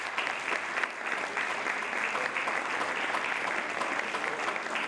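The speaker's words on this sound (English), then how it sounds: "Can we give him an applause?" Steady, sustained applause from an audience, dense clapping at an even level throughout without speech.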